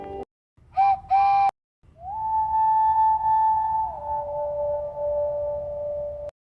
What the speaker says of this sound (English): It is the whistle of the 2 Fairlies as they run through the night